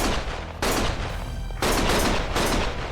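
Sustained automatic gunfire from the video game Lost Judgment, dense and loud with rapid overlapping shots in bursts throughout, briefly thinning before resuming at full intensity.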